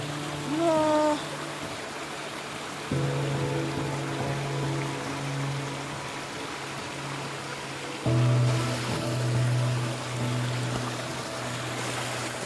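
Flowing river water makes a steady, broad rushing wash along a trekking trail. Low tonal hums come and go over the top.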